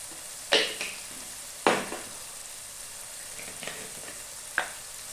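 Spices get stirred in a hot frying pan for a Kerala egg curry, with a soft background sizzle broken by several sharp scrapes and clinks of a spoon against the pan, spaced irregularly.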